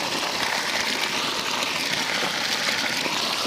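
Water from a Shakti solar pump gushes steadily out of a 2-inch pipe at a borewell, a continuous broadband splashing rush, close and unbroken.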